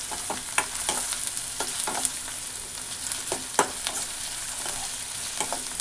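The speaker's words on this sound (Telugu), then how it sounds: "కొద్దిసేపు వేయించుకున్నానండి." Ingredients for uggani sizzle steadily in a hot pan while a spoon scrapes and stirs in irregular clicks and taps, close and alone without talk.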